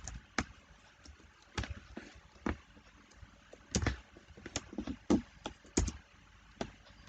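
Typing on a computer keyboard, close and quiet, with irregular bursts of key taps and clacks separated by short pauses.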